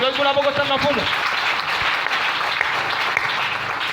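A church congregation claps and cheers for the Lord, with raised voices shouting over the applause at first, then a steady wash of clapping filling the room.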